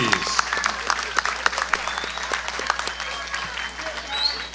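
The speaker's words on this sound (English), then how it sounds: "let's have a great round of applause for both boxers, please" A crowd at an amateur boxing event claps steadily for both boxers, a sustained round of applause with sharp individual claps over a dense background, faint voices mixed in.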